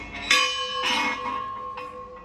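A large old temple bell at Kankaleshwar Temple is struck three times, each ring a bright metallic clang with a lingering ringing hum that fades before the next strike.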